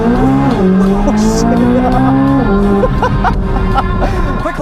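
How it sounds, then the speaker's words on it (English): A 2023 Chevrolet Corvette Z06 braking hard, its tires squealing in a loud sustained whine over the roaring engine, heard close from inside the car. "Now hard on the brakes, you feel the weight of the car"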